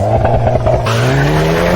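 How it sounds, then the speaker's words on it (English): The Hyundai Kona N hot SUV's 2-liter turbocharged GDI engine revs hard up close, a loud rising engine note climbing steadily in pitch with no talking over it. "Listen to that 2-liter turbocharged GDI engine."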